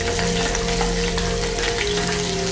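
Cumin seeds and finely chopped green chillies fry in hot oil, a loud, close, continuous crackling sizzle with no voices.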